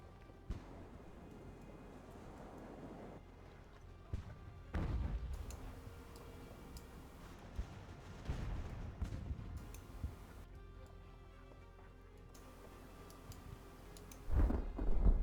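Cannon fire from sailing warships in the naval strategy game Ultimate Admiral: Age of Sail, heard as a series of booming shots at irregular intervals over steady background ambience, some loud and close, others duller and farther away.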